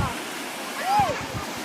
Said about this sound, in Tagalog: grabe yung bugso ng tubig